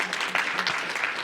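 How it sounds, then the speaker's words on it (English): An audience at a cybersecurity talk claps in a brief, moderately quiet burst, with uneven individual claps standing out from the general patter. "And feel free to applaud."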